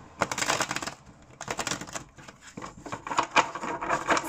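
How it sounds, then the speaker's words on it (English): A deck of tarot cards is shuffled up close in quick bursts of riffling and flicking card noise, each burst separated by brief pauses, with no talk over it. "I'm going to shuffle."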